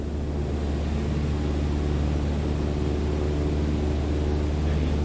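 A simulated airplane cruises in level flight over Sedona's red rock country in a flight simulator game, its engine a steady, unbroken droning hum with no talk.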